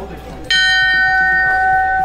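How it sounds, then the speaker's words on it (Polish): A single loud bell struck at a marathon event rings out sharply and then sustains a bright, shimmering tone, following quieter background chatter from the crowd. "Idziemy zabić w dzwon."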